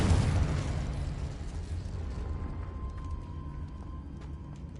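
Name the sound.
Confringo and Incendio spell blasts in video game Hogwarts Legacy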